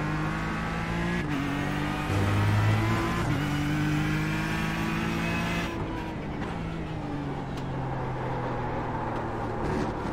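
Race cars roar past one after another in a racing game at Daytona, loud sustained engine drones with shifting pitch as faster class cars approach and pass, no talk.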